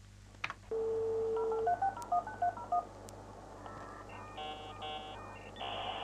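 A computer connecting to the Internet through a dial-up modem on a phone line: a dial tone, then a quick run of touch-tone digits, then high, shifting modem handshake tones, all fairly faint and with no talking.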